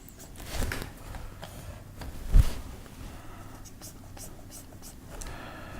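A pencil drawing a foot on paper, with soft continuous scratching and rubbing strokes at close range and one firmer tap partway through.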